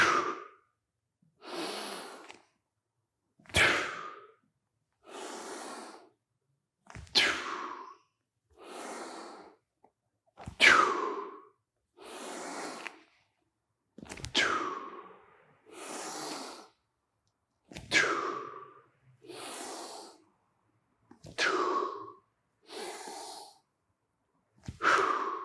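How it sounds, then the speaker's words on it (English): Deep, deliberate breaths during a squat stretch in a jiu-jitsu mobility routine, long inhales alternating with audible exhales in a slow, steady rhythm, heard up close with no talking. "breathing out as you come down and pull yourself into this squat pull"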